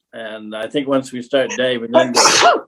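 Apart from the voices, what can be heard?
sneeze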